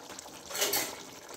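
Water pours into a pot of soaked rice for a chicken and pea pulao; the short splashing rush swells in the middle and then eases off.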